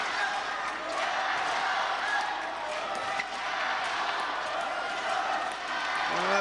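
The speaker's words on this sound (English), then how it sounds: "Well, the crowd are into this." Crowd noise fills a table tennis arena during a World Team Championship match in Moscow, a steady loud roar of murmuring and cheering spectators that holds throughout with a few sharper bursts.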